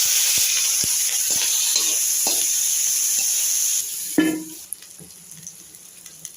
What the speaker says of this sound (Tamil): கடுகு சீரகம் பொரிஞ்சதும் இந்த தக்காளியும் குடமிளகா போட்டு வதக்கலாம்.